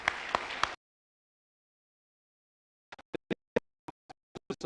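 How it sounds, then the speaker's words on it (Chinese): A church congregation at a Christmas worship service claps for the choir and orchestra. A short burst of noise cuts out into silence, then a dozen sparse, separate claps ring out near the mic. "我们的圣歌队乐团侍者我们再次给他们热烈的掌声"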